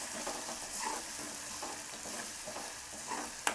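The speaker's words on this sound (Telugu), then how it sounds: "ఈ ఆయిల్లోనే కొంచెం వేగనివ్వండి" Raw onion and dried red chillies fry in oil for a spicy red chilli chutney, a soft, steady sizzle with faint crackles and a sharp utensil clink at the end.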